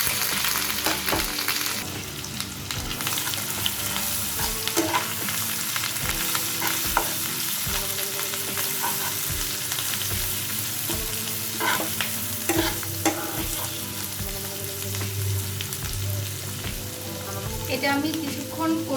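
Onion, garlic and ginger paste fries in a pan, a loud continuous sizzle with steady scraping and stirring strokes of a spatula against the metal throughout.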